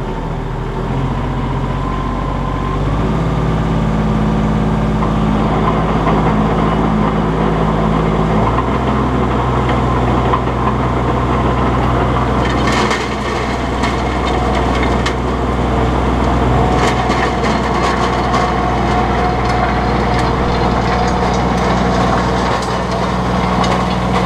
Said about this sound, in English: kick the PTO in, and then we're going to set the tiller down and start tilling